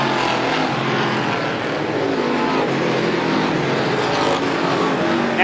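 Race cars in a Strictly Stock feature at Star Speedway, a loud, sustained roar of engines as the pack runs down the back straightaway, with a rushing, blended sound and a commentator's voice faintly underneath.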